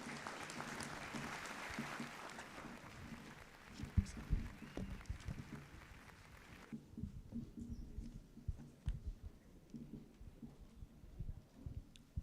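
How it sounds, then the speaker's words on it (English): Audience applause at an awards ceremony, the ESD Awards 2023 in Kenya, as a guest of honor walks to the podium; a dense patter of clapping in a hall that thins out partway through, leaving scattered claps and room noise. "kindly, one round of applause as the guest of honor comes to the podium"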